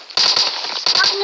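Gunfire in PUBG Metro Royale, two loud close bursts of rapid shots, each cutting off sharply.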